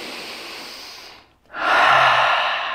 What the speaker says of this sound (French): On va prendre deux grandes respirations par le nez, deux grandes expirations par la bouche.